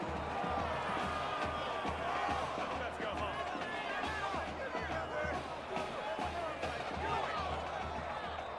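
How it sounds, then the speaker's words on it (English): A stadium crowd roars steadily throughout a Madden NFL 21 football video game after a big play, with the game's commentary talking over the dense crowd noise. "A big-time play that gets a roar from this crowd."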